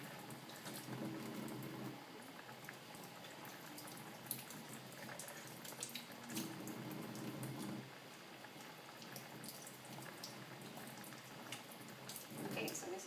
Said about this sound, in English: I'll wash the potatoes and dump it there